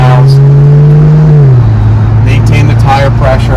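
A 2012 Maserati GT Convertible's 4.7-liter V8 rumbles loudly and close, its deep steady tone dipping slightly as revs ease, with voices talking over it toward the end.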